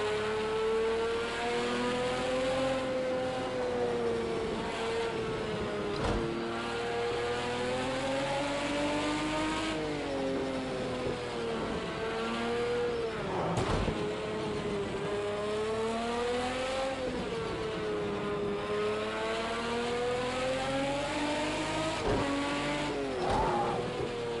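Race car engines from the video game Project CARS 2 drone steadily and loudly throughout, pitch rising and falling through gear changes and revs, with occasional brief tire squeal.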